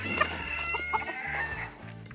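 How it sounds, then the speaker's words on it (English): A chicken on a farm clucks in short, close, busy bursts, with rooster-like calls mixed in and no one speaking. "Come here, little chicken"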